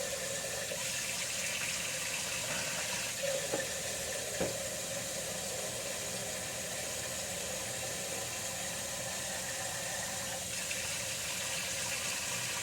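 A tap runs quietly, water filling a stovetop coffee percolator with a soft, steady hiss, a few small clunks, and a low hum of background noise.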